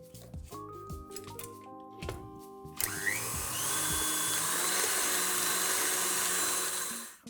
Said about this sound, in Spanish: Frenamos la batidora y vamos a volver a repetir una segunda vez.